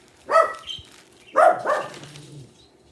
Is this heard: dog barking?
yes